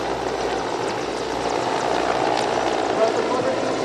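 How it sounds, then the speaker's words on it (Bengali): A steady, loud whirring roar of a military Mi-17 helicopter passing overhead during an air show flypast, holding constant throughout with broad engine and rotor noise. "সবশেষে দেখতে পাচ্ছেন বাংলাদেশ পতাকা বহনকারী Mi-17 হেলিকপ্টার"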